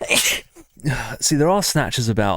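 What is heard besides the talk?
sneeze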